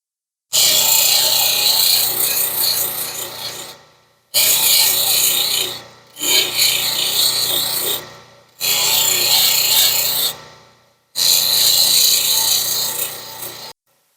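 A 468-carat specimen-grade Ethiopian opal is polished on finer grit wheels, making four loud, sustained rasping grinding bursts of about three seconds each, separated by short pauses, with no talking.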